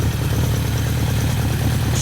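A 1985 Suzuki GS1150E motorcycle with its original exhaust idles steadily close by at night, a deep, even engine burble holding without change and with no one talking.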